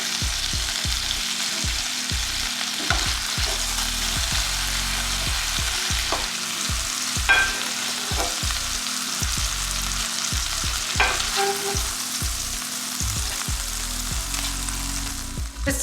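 A chicken quesadilla browns in a frying pan with a steady, close sizzle and frying hiss throughout, broken by occasional soft clicks and pan knocks.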